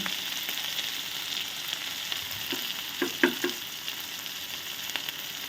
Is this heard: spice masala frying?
yes